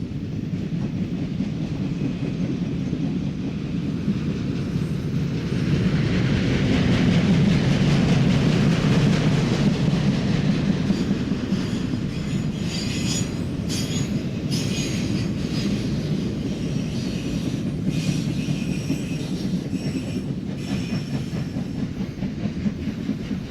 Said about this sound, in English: An extra section of eastbound stack train TV204, symboled